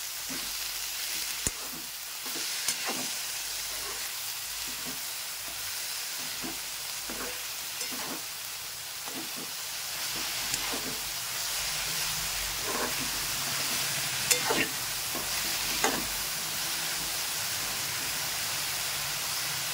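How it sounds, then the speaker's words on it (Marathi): Radish pod curry with a little beetroot and salt fries in a pan, giving a steady close sizzle broken by soft, scattered stirring clicks. "चांगलं फ्राय करून घ्यायचं आहे आपल्याला"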